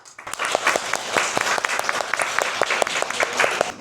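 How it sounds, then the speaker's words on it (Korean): Applause from an audience at a seminar on goshiwon housing: lively, fairly loud clapping from many hands with a few sharper individual claps standing out. "다 같이 박수 치면서 올라가요"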